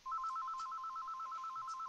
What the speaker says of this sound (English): Didn't we get a phone call?